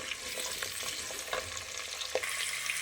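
A spoon scrapes and stirs drumstick pieces in a tempering in a frying pan, giving soft irregular clicks over a quiet, constant sizzle, with no voices.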